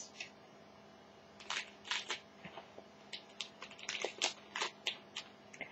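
Scissors snip open a Doctor Who trading card game pack; a quiet, close run of sharp clicks, crinkles and rustles comes in irregular bursts, with no talking.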